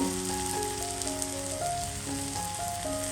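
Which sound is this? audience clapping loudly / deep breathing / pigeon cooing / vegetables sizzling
vegetables sizzling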